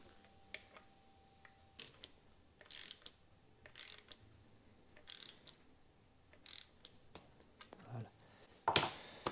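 A torque wrench tightens bolts on a new Meral Artemis carbon bicycle, giving scattered short ratcheting clicks in quick bursts, quiet and close, separated by pauses.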